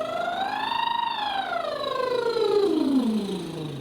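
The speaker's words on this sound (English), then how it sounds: "go up to the highest you can get with this blowing raspberry style" A single continuous lip trill, blown raspberry style as a singing warm-up, glides smoothly from low to high and back down in one steady, close, fairly loud sweep with no talking.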